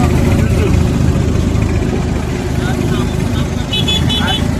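An auto rickshaw engine runs continuously with a loud, close, rumbling drone as the vehicle travels from Veraval station toward Somnath, with people talking over it.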